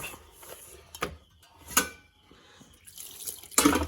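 Water is poured in a few short splashing bursts separated by quiet gaps, nearby and fairly soft.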